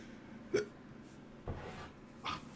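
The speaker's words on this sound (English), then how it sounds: "I've got hiccups again, son." Three sharp, quiet hiccups come about a second apart, each a short, abrupt catch of breath over faint background noise.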